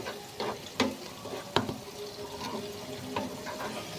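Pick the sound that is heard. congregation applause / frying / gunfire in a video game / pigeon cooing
frying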